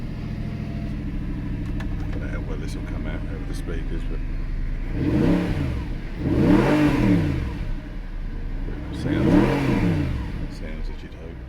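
An Audi R8 4.2 FSI V8 starts and settles into a rumbling idle, then gives three sharp revs that rise and fall at regular intervals, loud and close. Someone talks briefly over the start.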